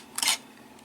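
A Viltrox MC-C1 remote control fires a camera shutter with no battery power, giving a single brief, faint mechanical click against quiet room noise.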